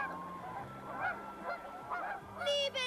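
Geese honk in a flock, a run of overlapping nasal calls at moderate distance, ending in a louder, clearer cry.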